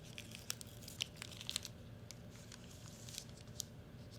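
Sterile cotton-tip applicator packaging peeled open, giving soft crinkling and a few sharp crackles over a quiet background.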